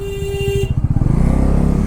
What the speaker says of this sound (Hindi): देखो मेरे एक हॉर्न पे रास्ता मिला ना।